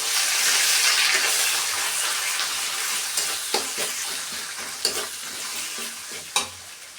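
Chicken with chili and cumin pastes frying in a pan, a loud continuous sizzle with scraping strokes of a spoon stirring through it, the sizzle gradually easing.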